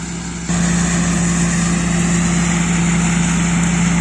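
A steady, loud engine drone with a constant low hum from a Sampo 500 combine harvester threshing grain, running continuously without pause nearby.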